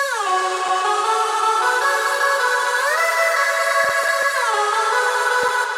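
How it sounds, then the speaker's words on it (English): A Nexus vocal lead synth in techno style holds sustained, voice-like tones that glide smoothly between pitches, loud and steady with a few brief dips, alone without talk. "a kind of vocal lead from Nexus that's really used in techno and sound like this"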